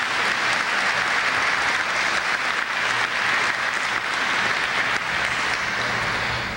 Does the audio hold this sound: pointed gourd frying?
no